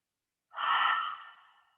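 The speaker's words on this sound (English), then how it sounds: "So we're going to breathe." A single breath during a gentle morning yoga session, a soft airy exhale that swells quickly and fades out over about a second, close and alone.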